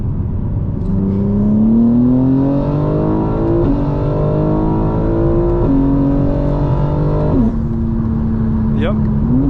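A 900hp 2025 BMW M4 Competition xDrive engine revs hard and climbs through several gear shifts, its pitch rising in steps, loud and close.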